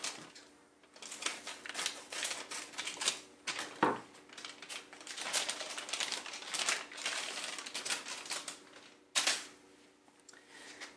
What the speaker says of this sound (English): we're going to go ahead and cut open the Gator patch here